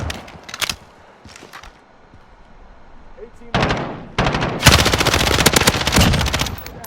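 Machine gunfire in a team deathmatch video game: a few short bursts early, a quiet stretch, then loud sustained automatic fire with rapid rattling shots dominating the final seconds.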